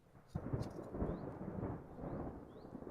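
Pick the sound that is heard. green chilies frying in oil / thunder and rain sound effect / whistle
thunder and rain sound effect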